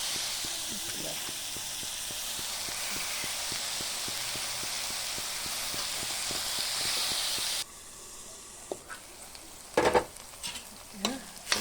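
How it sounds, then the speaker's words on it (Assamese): Home-dried fish fries and is stirred in a pan for a curd and taro dish, a loud, steady sizzle that cuts off abruptly, followed by sparse utensil clinks and knocks. "ঘৰতে শুকুৱাই থোৱা শুকান মাছ ভজা হোৱাৰ কাৰণে এয়া শুকান মাছখিনি দি দিম।"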